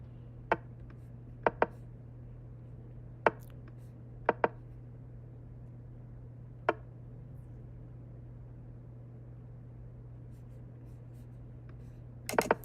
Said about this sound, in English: Does have a lot of clicking sound though